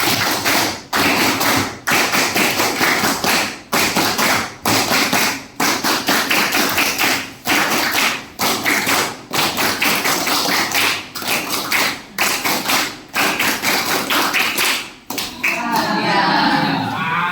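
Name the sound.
class doing 'tepuk siap, tepuk bahagia' clapping chants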